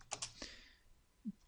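A few quick keystrokes on a computer keyboard tap out close and soft, a short cluster of clicks that then fades into quiet room hiss.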